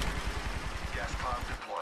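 Rapid automatic gunfire in the Apex Legends video game rattles in a quick, even burst of repeated shots, fairly faint and steady over the whole stretch.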